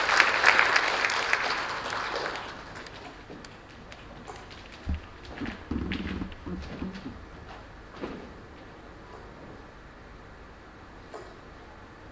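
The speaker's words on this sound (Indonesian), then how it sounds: "Tepuk tangan untuk kita semua." An audience claps at a book and song launch event on child protection in Indonesia, a fuller burst at first that thins over the next seconds into scattered claps and knocks.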